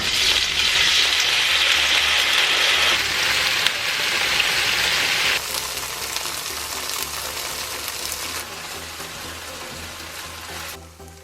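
Tofu fries in a tablespoon of cooking oil in a hot pan, giving a loud, steady crackling sizzle that eases slightly partway through and carries on without any voices.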